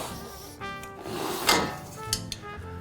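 A drywall T-square tip drags across the paper face of a sheet, making a scraping slide with a sharper scratch midway and a couple of small knocks near the end.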